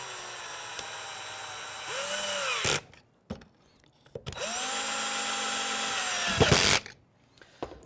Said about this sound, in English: if you're using an electric screwdriver, make sure your torque setting isn't too tight